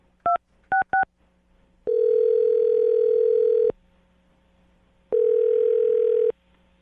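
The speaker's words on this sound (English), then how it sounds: "I'm dialing his phone number right now." A telephone being dialed: three short keypad tone beeps in quick succession, then two long steady ringback tones separated by a pause, loud and clear with no talking.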